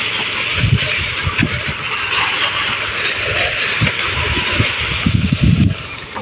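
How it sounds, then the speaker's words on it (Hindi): A tractor engine chugs steadily in a rural spot where bamboo is cut and loaded for hauling. Its rumble is joined by irregular low knocks and clunks, and the engine swells louder near the end. "ये देखिए वो हंक रहा है ट्रैक्टर।"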